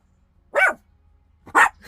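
A dog barks twice, two short, sharp barks about a second apart, close and clear against a quiet background with a faint low hum.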